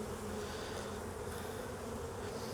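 Honey bees massed densely on a beehive frame, a continuous close, even buzzing drone with no talk over it.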